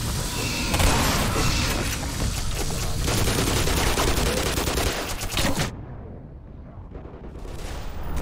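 A mortar in the video game Black Mesa fires loudly, with a dense, sustained roaring blast that cuts off abruptly into quiet before a fainter rumble returns.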